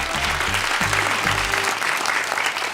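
Studio audience applause on the Turkish TV quiz show Büyük Risk: a dense, steady burst of clapping fills the whole clip, with low tonal notes underneath and no voices.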